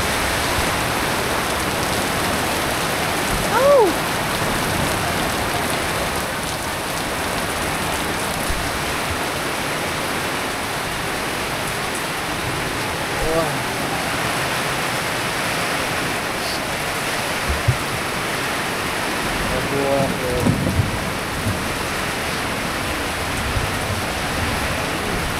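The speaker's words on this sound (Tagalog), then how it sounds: "tingnan nyo, lakas na ng ulan" Heavy rain pours down steadily in a dense, continuous hiss with faint scattered knocks, loud and unbroken for the whole stretch.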